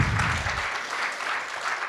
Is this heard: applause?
yes